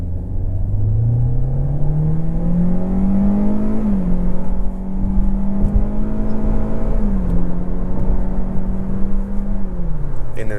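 A 2024 Hyundai Elantra Limited accelerates hard to 60 mph, engine drone climbing steadily in pitch, dropping at two gear shifts and climbing again, loud and close from inside the cabin.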